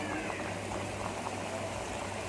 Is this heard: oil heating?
yes